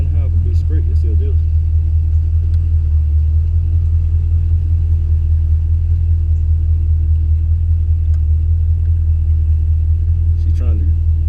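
A box Chevy's engine rumbles steadily at low pitch, loud and constant throughout from inside the car, with people talking over the drone.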